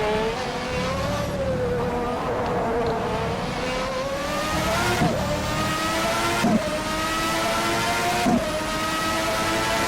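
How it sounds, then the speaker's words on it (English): A 1992 McLaren's Honda V12 Formula 1 engine screams as it revs up through the gears in rFactor 2, its high whine climbing with brief dips at each shift, loud and continuous. "V12 Honda power."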